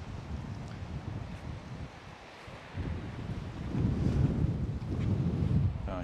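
Gusting wind on a beach in Port de Pollença buffets the microphone in a steady low roar that swells louder in the second half, with no one speaking.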